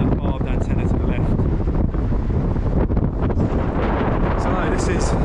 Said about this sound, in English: the weather's starting to get a little bit windy, the rain's coming down a bit